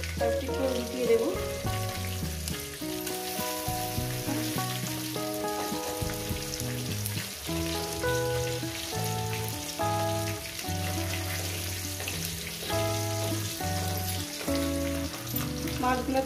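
Parshe fish sizzle steadily while frying in hot oil, the crackle running under loud background music for the whole stretch.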